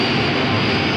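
The Batman 1966 bat boat speedboat engine roars loud and steady with a jet-plane-like whine, a dense continuous blast filling the moment.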